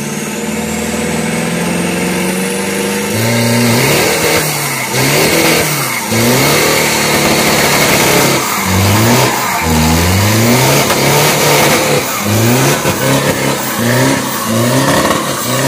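A turbocharged street car with a Titan engine revs hard at a 402 m drag-racing practice, a loud close engine climbing and falling through repeated throttle blips over a steady rumble, with no one talking.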